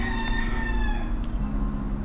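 A neighbouring rooster crows once, close and loud: a sustained, strongly harmonic call lasting about two seconds over steady background noise, with no talking.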